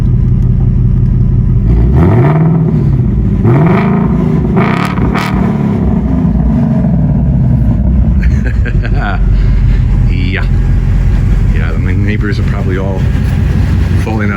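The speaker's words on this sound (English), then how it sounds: "the sound of the exhaust is more throaty on the S650" A 2024 Ford Mustang S650's throaty exhaust revs up repeatedly toward about 5,000 RPM, with deep, rising roars over a constant loud engine rumble, close to the microphone, as a voice speaks briefly.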